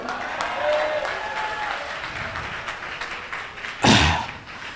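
A church congregation applauds during a sermon in a revival service, a broad wash of clapping that holds steady, with a louder burst of claps near the end.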